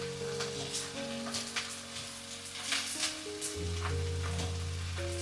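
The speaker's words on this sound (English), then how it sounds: "Keep stirring until the cabbage softens and you see it reducing in size." Sliced cabbage sizzles steadily while stir-frying over high heat, a continuous close crackle with scraping stir sounds and soft music tones underneath.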